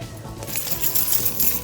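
A set of keys jingles and clinks in a quick, bright metallic rattle, close and fairly loud, running for a couple of seconds in an office setting behind a photocopier, with no talk.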